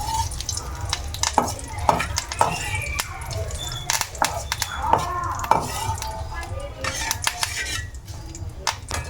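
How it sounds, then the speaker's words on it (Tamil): Puffed rice masala is fried until crisp while a spoon stirs it, giving repeated close clinks and scrapes against the pan over a low, continuous frying rumble. "இது கொஞ்சம் வந்து கிறிஸ்பியாக ஃப்ரை பண்ணிக்கோங்க."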